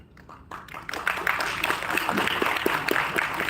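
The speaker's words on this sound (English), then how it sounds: "A thundering applause for this special moment at Chitkara University" Audience applause at a university launch ceremony at Chitkara University, beginning with a few scattered claps that quickly build into sustained, fairly loud clapping from a crowd.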